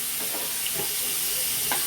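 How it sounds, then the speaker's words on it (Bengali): Pointed gourd (potol) frying in oil in a pan, a steady soft sizzle with a few faint stirring scrapes, close by and with no talking. "এদিকে ভাজা বসিয়ে দিয়েছি"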